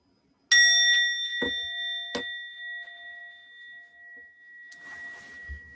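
A bell is struck a few times to close a timed reflection. Each bright, clear ding rings out and decays slowly, with short gaps between strikes and no talking.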